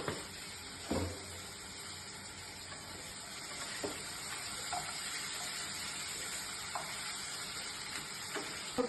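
Water pours and hisses steadily into a pan holding fish with turmeric and salt as it is set to boil, with a faint sizzle and a few small clicks and knocks close by.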